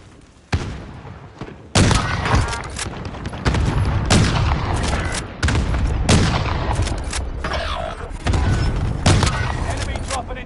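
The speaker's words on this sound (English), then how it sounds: "Rounds incoming." Rapid gunfire from a Warzone match on Rebirth Island: dense volleys and heavy thuds crack and boom close by, in repeated loud bursts over about ten seconds, with game voice callouts mixed in.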